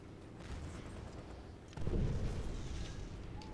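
Mortar artillery fire in the Toy Soldiers video game: a single muffled boom hits midway, with a rumble that fades out against steady background game noise.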